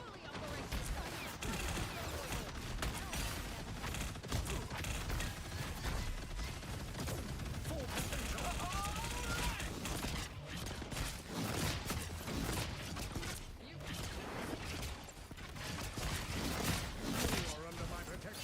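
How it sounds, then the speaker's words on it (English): Heavy cannon fire from the Punisher in a video game, a dense, sustained barrage of mechanical bursts and clattering impacts that runs loud and continuous throughout, with a voice talking over it. "The Punisher's cannon is fully operational"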